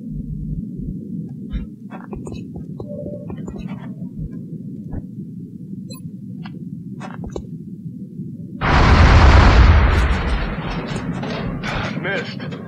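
Squad gunfire in X-COM Enemy Unknown: over a low droning background with scattered faint clicks, a loud, dense burst of shots erupts near the end, then fades into a lingering rumble.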